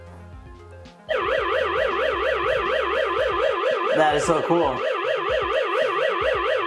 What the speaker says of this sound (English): So whenever it's open, it'll go ahead and trigger the alarm.